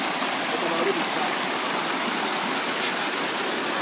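Rainwater rushes rapidly across the ground on site after heavy rain, a loud, steady broadband roar of flowing water that stays continuous and close throughout, with no voices.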